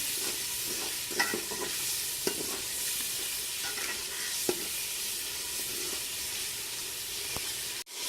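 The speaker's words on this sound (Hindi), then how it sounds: "अब थोड़ी देर इसको हम भूनेंगे।" Tomato and yogurt masala sautés in a pot, a steady close sizzle and hiss with a few clear spoon scrapes and taps of stirring, heard alone.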